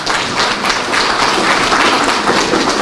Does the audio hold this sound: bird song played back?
no